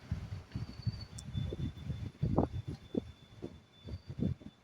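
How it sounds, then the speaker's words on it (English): Strong, damaging storm winds buffet the microphone outdoors in uneven, low, rumbling gusts that rise and fall throughout, with a faint high whine in the background. "Do y'all hear this wind?"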